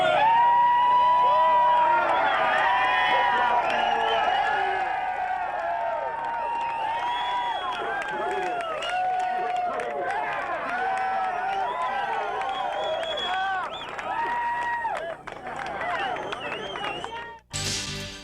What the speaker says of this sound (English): At Budds Creek Raceway in Maryland, the crowds are gathering now for round 3